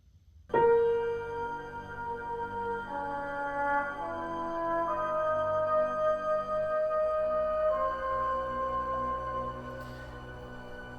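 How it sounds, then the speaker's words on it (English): A solo trumpet plays the short questioning phrase from Ives' The Unanswered Question, sustained notes rising over soft, hushed strings, the horn sounding somewhat distant and quiet. "The second instrument that comes in is the trumpet."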